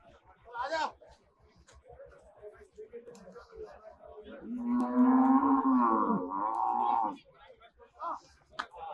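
At a livestock market in Erragadda, a buffalo gives one long, loud, low moo lasting a few seconds, with people talking before and after it over a faint, steady rhythmic background.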